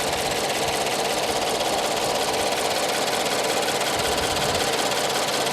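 A 2014 Subaru BRZ Limited engine idling, heard up close as a steady, even mechanical hum with a fine rapid ticking and no change in revs.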